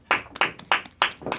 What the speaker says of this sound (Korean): 뭐 박수도 쳐주고